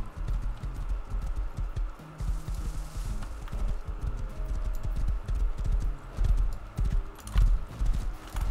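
Horse hooves clip-clop in a rapid, steady galloping rhythm, loud and close, over a low rumbling soundtrack in the video game Rust.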